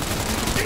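Rapid gunfire erupts during a car chase in the video game Cyberpunk 2077, a dense, continuous barrage packed into a single loud, unbroken burst.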